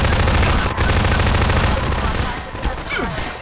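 Sustained, loud rapid gunfire from many enemies in the co-op shooter Half-Life 2 Synergy, a dense continuous barrage throughout with game effects layered in.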